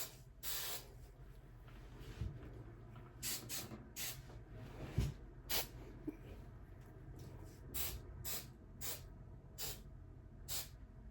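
Aerosol hairspray hisses from a can in a run of short bursts at varied lengths, fairly close, with brief pauses between sprays.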